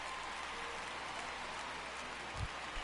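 Heavy rain pours steadily over an outdoor baseball game, a dense, even hiss with no breaks, heard from a distance with one soft low thump near the end.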